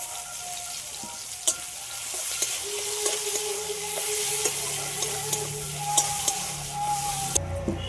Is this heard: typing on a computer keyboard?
no